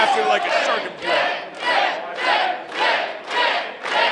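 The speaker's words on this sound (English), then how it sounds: "I hear the crowd solidly behind Jet Royal." A wrestling crowd at an NWL show chants and cheers in loud rhythmic waves, about seven pulsing surges in a steady beat.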